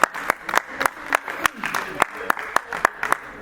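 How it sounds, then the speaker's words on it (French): Wedding guests applaud in rhythmic unison, a steady run of sharp clustered claps at an even beat, loud and close, with voices talking between the claps. "Est-ce qu'on peut acclamer?"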